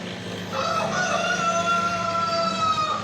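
A rooster crowing nearby in a long, drawn-out call that stands clear over steady low outdoor background noise, with no talk.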